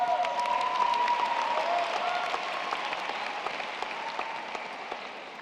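Sustained applause fills a high school graduation ceremony, a large crowd clapping steadily throughout and slowly fading toward the end, with a faint sustained tone running beneath.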